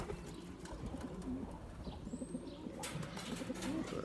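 Pigeons coo low and soft in a loft over constant background noise, with a faint chirp and a brief rustle of wings partway through, and no talk.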